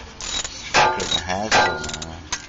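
A car's rear wheel spins on the drive propeller shaft after the shaft and rear differential are refitted, giving several loud mechanical whirring and ratcheting bursts close by, with gear-like clicks between them.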